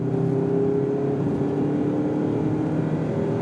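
A car engine revs hard toward redline with a steady high whir and held harmonic drone, loud and continuous, as gears are shifted during a test drive with paddle shifters.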